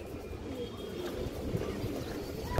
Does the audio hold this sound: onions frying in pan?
no